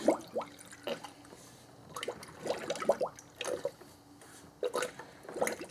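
Coolant gurgles and pops with big air bubbles as a 2010-19 Dodge Ram 5.7L Hemi is filled, giving irregular close wet blurps and glugs with quiet pauses between bursts.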